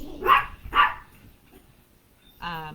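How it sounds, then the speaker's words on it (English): Dogs barking indoors, two sharp loud barks in quick succession followed by a pause and then a higher whining yelp, close by with no talk over them. "I do apologize for my dogs barking nonstop."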